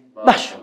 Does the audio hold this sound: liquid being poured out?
no